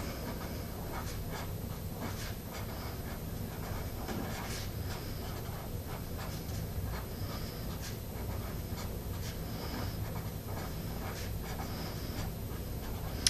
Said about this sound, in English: I'm actually going to write that down